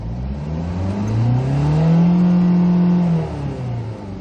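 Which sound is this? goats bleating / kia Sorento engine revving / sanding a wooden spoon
kia Sorento engine revving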